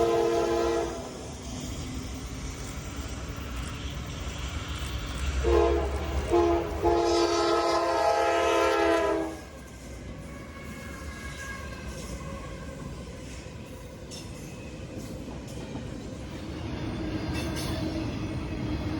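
A freight train rumbles past at sunset in Pennsylvania with rolling wheel noise, and a loud horn blasts twice in the middle before the steady rumble continues.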